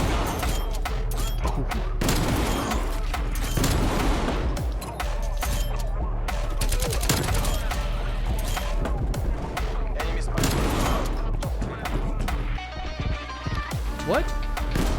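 Shotgun fire in a first-person shooter video game, with rapid bursts of sharp blasts and booms scattered densely through a busy mix of other game gunfire and effects.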